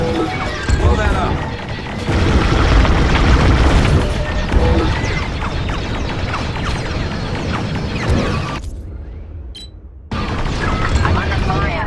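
Heavy booming explosions and crashing debris fill a Star Wars Squadrons space battle, loud and dense for most of the stretch before a short lull and then renewed rumbling, with radio voices mixed in.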